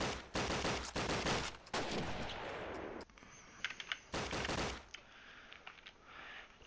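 Rapid PPSh submachine-gun bursts in Call of Duty on the Tigertown map, loud repeated automatic fire in several sharp volleys separated by brief pauses, with no talk.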